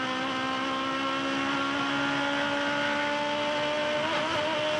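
Aussie Racing Cars racing at Winton, a loud, sustained engine drone with several overlapping tones climbing as the cars accelerate on the throttle.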